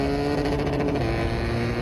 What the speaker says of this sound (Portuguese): Tá top demais a moto com ronco de F800